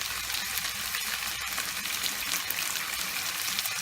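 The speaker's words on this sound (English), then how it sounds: "if you get the chicken to brown a little on one side without cooking the centre of it" Chicken pieces brown in a hot frying pan, giving a steady close crackling sizzle with fine popping spatter, continuous and without talk.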